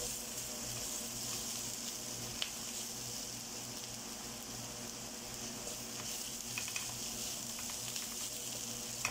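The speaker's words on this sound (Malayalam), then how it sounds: "നല്ലതായിട്ട് നമ്മുടെ മസാല മൂത്തു വരുന്നുണ്ട്" Masala spices sizzling and frying steadily in a pan while cooking fish chukka, a continuous close, dense crackle with occasional small pops and no talk.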